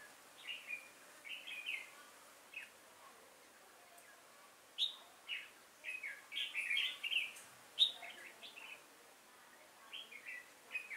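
Red-whiskered bulbuls call at a trap outdoors, with short bright chirps and warbled phrases coming in scattered bursts, moderately distant and fairly faint against a quiet background.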